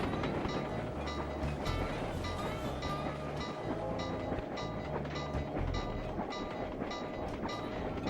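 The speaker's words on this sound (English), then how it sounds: "Another thing you can do with these trains, you can hitch a ride." A train rumbles past in Sly 2: Band of Thieves, with a continuous heavy rolling drone and faint rhythmic clatter. The sound holds steady and fairly quiet throughout, with no speech.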